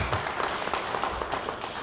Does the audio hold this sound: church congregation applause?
yes